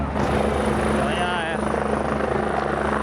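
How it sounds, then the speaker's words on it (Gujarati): A helicopter lands and takes off at a helipad on the Kedarnath pilgrimage route, rotor thumping loudly and steadily close by, its engine whine running throughout. "એક એક બે બે મિનિટે હેલિકોપ્ટર આવે છે અને અહીંયાથી ઉડે છે"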